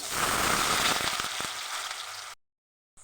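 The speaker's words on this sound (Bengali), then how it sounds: "সোয়াবিন কষার জন্য দিয়ে দিলাম ভেজে নেব" Soybean chunks and diced potato fry in mustard oil, giving a dense, close sizzle that slowly thins out before cutting off abruptly near the end.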